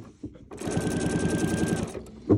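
A sewing machine doing free-motion quilting of circles on a quilt runs in one steady, rapid stitching burst of about a second and a half, starting and stopping cleanly, close and clear with no talk.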